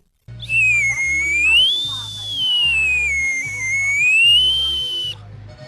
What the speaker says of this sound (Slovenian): Drugačen zvok pa dajo ročno izdelane pastirske piščali.